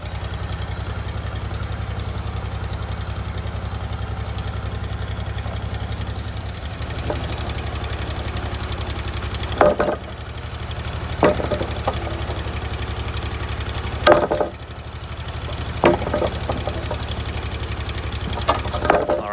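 An old yellow tractor engine runs at a steady, close, throbbing idle while a post pounder drives fence posts, sharp heavy thuds landing at intervals over the engine drone in the second half.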